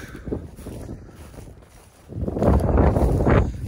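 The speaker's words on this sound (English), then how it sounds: "the wind's just decided it's going to blow a gale" Strong wind gusting across a phone microphone outdoors by a hedge line near a WWII pillbox on an old airfield, a low rumbling buffet that swells louder in the second half.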